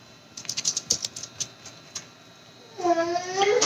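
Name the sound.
cat meowing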